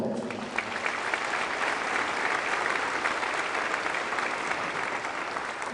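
A banquet audience at an Auburn men's basketball gathering applauds steadily, a dense, even crowd of clapping heard at moderate distance with no break for the whole stretch.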